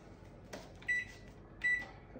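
An oven is set to preheat to 180 degrees: a soft click, then two short, clear electronic beeps about three quarters of a second apart in a quiet room.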